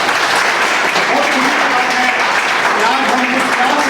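A full classroom of students applauding together, dense and loud clapping that holds steady for several seconds, with voices mixed in beneath it.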